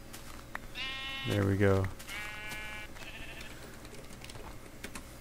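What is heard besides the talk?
sheep bleating in the video game Minecraft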